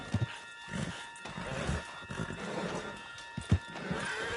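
A horse in a PS4 video game whinnies and snorts while its hooves clip-clop in uneven steps, moderately close and without talk.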